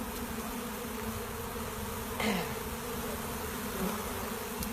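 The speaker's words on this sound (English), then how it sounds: "all the bees are still flying around" Honeybees buzz in a steady, dense hum around a hive being moved, with many bees on the ground and an occasional bee passing close by. The sound is moderately quiet and there is no speech.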